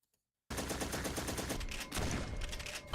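Rapid automatic gunfire from a horror video game trailer begins abruptly after a moment of silence, a dense, loud, sustained burst of shots that swells even heavier near the end.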